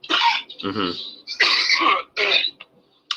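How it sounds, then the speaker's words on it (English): A few harsh coughs from a chest infection and throat-clearing bursts, close and fairly loud, separated by short pauses, with one brief final cough at the end. "I'm sorry if I keep coughing"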